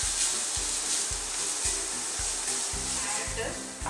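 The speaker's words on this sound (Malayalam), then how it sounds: "ഈ ക്യാരറ്റിൻ്റെ പച്ച വാസന ഒന്ന് പോകണം. അതുവരെ നമുക്കൊന്ന് വഴറ്റിയെടുക്കാം." Grated carrot sautéing in a pan for carrot halwa, a steady close sizzle with soft, regular low thuds as it is stirred.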